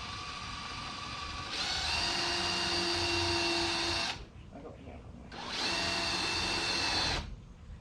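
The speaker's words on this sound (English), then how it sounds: "So I pre-drill my hole." A power drill pre-drills a hole in a trailer in two whining bursts of several seconds each, separated by a short pause, with a brief lull after the second.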